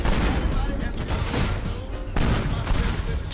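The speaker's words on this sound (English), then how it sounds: "that one explosion just like hit the ground but didn't even actually lag" A loud explosion in the Teardown video game rolls out as a dense, crackling rumble of blasts and debris, with a second burst partway through and a voice talking over it.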